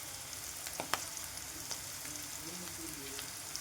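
Onions, green chillies and curry leaves frying in a pan for a brinjal tomato curry, a steady soft sizzle throughout with a few brief clicks of utensils, no voices.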